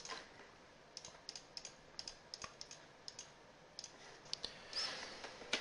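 Rapid, uneven clicks of a computer mouse while working in Adobe Illustrator, close and fairly quiet, coming in quick bursts with no voice.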